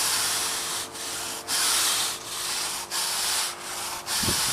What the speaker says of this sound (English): make sure you broom it out a little bit just to kind of evenly spread it around